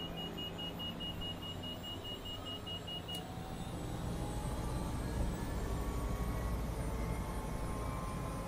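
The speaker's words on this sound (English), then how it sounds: "That's a battery noise." A steady electronic battery warning beep repeats inside a helicopter flight simulator game, sitting over a constant droning engine hum that swells slightly toward the end, with no voices.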